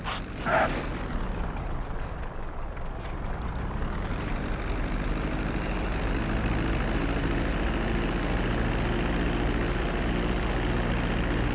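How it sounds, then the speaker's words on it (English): A propeller airplane landing on a runway in the GTA 5 video game: a steady, loud, droning engine roar that holds without a break throughout. "Start to decelerate while you're still in the air, but be careful not to stall the engines."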